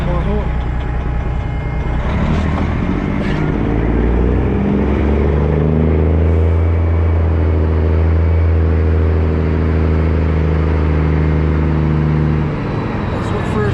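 A semi truck's diesel engine pulls away in first gear on an ice road, loud and close, with a deep rumble rising steadily in pitch as it revs for about ten seconds before easing off.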